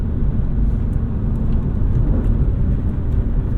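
A BMW E36 M3 engine heard from inside the car, with a loud, steady low-pitched intake roar and rumble that runs unbroken throughout, no talking.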